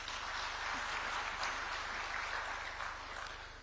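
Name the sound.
conference audience applause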